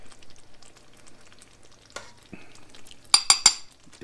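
Old garlic nibs fry in hot oil with a quiet crackle, then a burst of loud metal clinks from a utensil against the pan near the end.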